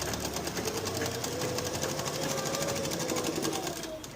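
A sewing machine stitches fabric for a V-neck frock in a steady, rapid mechanical whir with a fast even needle rhythm, close up and continuous throughout.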